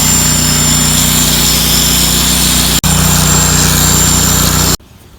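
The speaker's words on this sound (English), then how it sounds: "You think we ought to use the electric grinder?" An electric grinder runs loud and steady close by at a workshop building a chain-drive circle sawmill. It drops out for a split second midway, then stops abruptly near the end.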